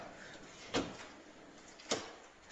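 A newly installed bathroom door shuts twice, each a short soft thud with a click, moderately close, over a steady background hiss with no talking.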